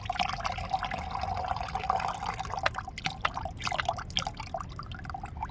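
Liquid oil-cake fertilizer water being poured off into a container for feeding aubergine plants, a steady trickling and splashing stream with small drips, close and continuous.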